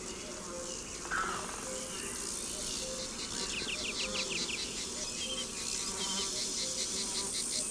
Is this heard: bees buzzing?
yes